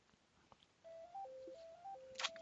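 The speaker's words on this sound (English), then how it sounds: "phone keeps ringing today." A phone rings faintly during a Magic: The Gathering match, Guttersnipe versus Rakdos Aggro: a short run of stepped electronic ringtone notes over low room hiss, ending in a brighter burst.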